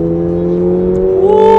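A Subaru BRZ engine revs up sharply on a paddle-shifted manual-mode downshift, a loud close steady tone that climbs in pitch near the end.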